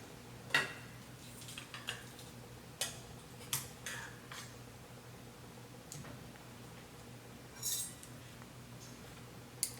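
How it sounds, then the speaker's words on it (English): A knife slices cooked steak on a board, producing sparse, faint clicks and taps of the blade against the surface, irregularly spaced in a quiet kitchen. "I'm going to get started on slicing my steak now"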